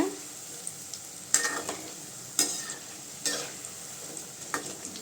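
Bonda fritters fry quietly in hot oil, a soft low sizzle broken by several sharp clinks and scrapes of a spoon turning them in the pan.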